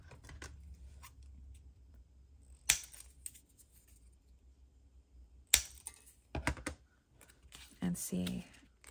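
Paper is trimmed for a craft project, with a few sharp, crisp cuts or snips standing out from a quiet background, followed by a burst of rustling and handling near the end; soft talk is heard in places.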